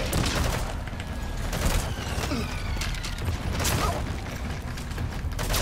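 Mortar fire and gunfire in the stealth action game Metal Gear Solid V: The Phantom Pain, a dense continuous barrage of booms and crackling shots with mechanical clatter, loud and sustained throughout.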